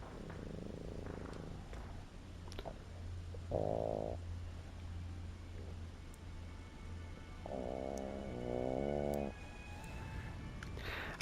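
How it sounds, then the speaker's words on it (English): A couple of pug dogs snore nearby in slow, rasping, rumbling bursts, faint and close, against a quiet background with no talking. "They sit on my lap and they snore while I'm recording this."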